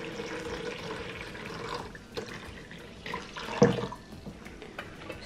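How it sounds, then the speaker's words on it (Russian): Hot water, about one and a half litres, pours steadily over two tablespoons of baking soda in a container, a continuous close splashing flow with a brief louder gush partway through. "Это все нужно залить горячей водой."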